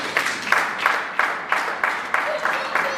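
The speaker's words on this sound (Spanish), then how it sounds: "un fuerte aplauso a Dios" Congregation applause in a church service, a steady broadband wash of clapping with rhythmic swells roughly every third of a second, moderately loud, with a brief voice tone near the end.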